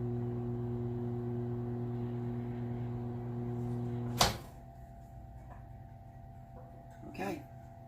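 A microwave oven running while melting butter, a steady hum with a loud clunk or beep near the middle, after which the hum stops and faint room sounds remain.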